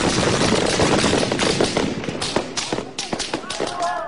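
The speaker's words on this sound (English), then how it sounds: "Then shots ring out." Gunshots fired by security forces at street protesters in Manama, Bahrain, crack out as a rapid, irregular volley of sharp reports over loud crowd noise and shouting, with cries rising near the end.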